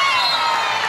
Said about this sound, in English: And you can really hear the reaction from the crowd